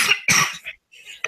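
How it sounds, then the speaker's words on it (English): A character coughs from smoke in two rough, close bursts, then trails off into a brief silence before a faint rasp and another short cough. "As she coughs because of all the smoke."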